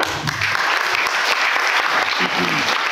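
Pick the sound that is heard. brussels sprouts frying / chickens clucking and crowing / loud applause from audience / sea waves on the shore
loud applause from audience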